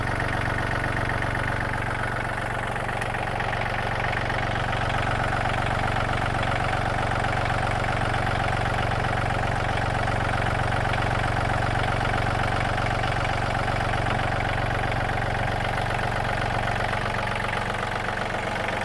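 A steady, low three-cylinder Yanmar tractor engine idles continuously at close range, with a rhythmic knocking chug and no voices throughout.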